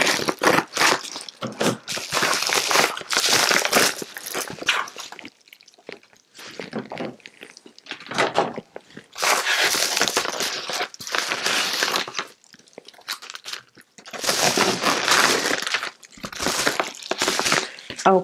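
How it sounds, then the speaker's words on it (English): A mail package having its top cut open, with bursts of scraping, crinkling cardboard and tape alternating with short pauses, close and fairly loud. "Let me see if I can carefully cut the top open."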